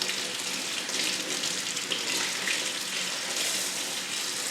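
Water streams steadily from a tap as hybrid Phalaenopsis orchid roots are rinsed during repotting from moss to bark, a continuous close splashing hiss with slight fluctuations and no talking.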